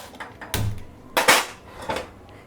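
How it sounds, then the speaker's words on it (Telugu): A metal pan set down on a kitchen stove, with a few sharp clanks and knocks close by before the burner is lit. "ఇప్పుడు ఒక బాండిల్ పెట్టి స్టవ్ వెలిగించి"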